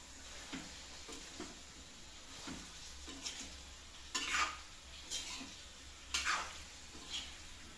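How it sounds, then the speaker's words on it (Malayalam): A mango, grape and date pickle is stirred in a pan, producing faint, repeated scraping strokes over a low sizzle, with a few louder scrapes at intervals. "നമുക്ക് മിക്സ് ചെയ്ത് കൊടുക്കാം കേട്ടോ."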